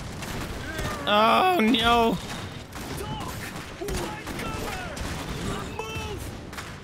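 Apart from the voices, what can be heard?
gunfire from the video game Iron Harvest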